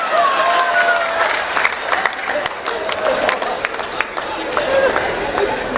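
A crowd of about 400 people claps continuously for several seconds, a dense, even wash of applause with chatter mixed in.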